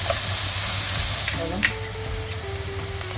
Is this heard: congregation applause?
no